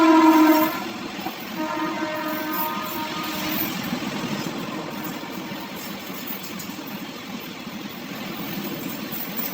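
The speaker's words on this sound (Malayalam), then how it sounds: "ഒരു ട്രെയിൻ ചീറിപ്പാഞ്ഞ് വരുന്നുണ്ട്" A train speeds through a station at Phagwara Junction without stopping. A brief horn blast opens into a loud, steady roaring rumble of wheels and cars rushing past close by.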